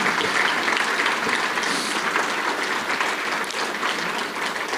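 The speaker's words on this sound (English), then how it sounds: "Please give these people a wonderful round of applause." A conference audience in Val-d'Or gives sustained, even applause, a thick wash of clapping that holds steady throughout with little variation.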